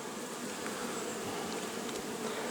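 A steady, dense buzz of many honeybees drying beehive boxes in mid-September, continuous and even, with no voices.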